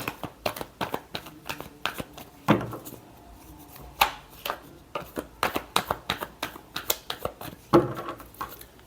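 Tarot cards shuffled by hand in a steady run of quick, crisp riffles and taps, close by and fairly quiet, with a few heavier slaps along the way.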